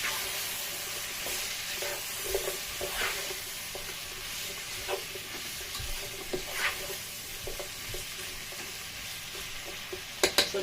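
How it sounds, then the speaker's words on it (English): Black pepper and minced herbs being stirred into sizzling vegetables in a pan, a steady frying hiss with soft scraping strokes and occasional clinks, ending in a couple of sharper knocks. "I'm going to mix everything together."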